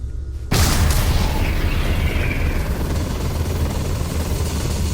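After a brief silence, a sudden heavy power blast from Starfield erupts like a dragon shout, a loud booming burst that sweeps into a long roaring rumble and slowly fades.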